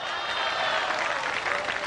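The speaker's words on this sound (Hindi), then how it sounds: "ये वाह वाह और तालियां" Audience at a Hindi comic poetry recital (hasya kavi sammelan) bursting into applause mixed with shouted cheers of approval, a dense, loud crowd roar throughout.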